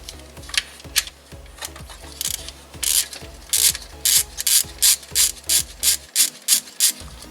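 A ratchet wrench clicks repeatedly as it loosens the timing chain tensioner cap nut on a Kia engine, with rhythmic bursts of ratcheting that grow louder and more regular, close up with no talking.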